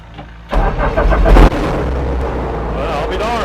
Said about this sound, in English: It started right up the first time.